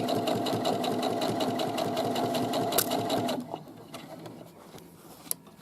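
A sewing machine runs steadily and loudly while stitching the side seam of a garment with a pocket, then stops abruptly partway through, leaving a few quiet handling clicks.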